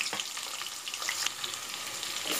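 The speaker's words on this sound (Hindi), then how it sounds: "ऑयल गर्म हो चुका है। अब मैं डाल रही हूँ 2 अदद प्याज, स्लाइस कटी हुई प्याज डाल रही हूँ" Two sliced onions dropped into hot oil, eight teaspoons' worth, for mutton paya, with a steady bright sizzle and crackle that stays loud and close for the whole moment.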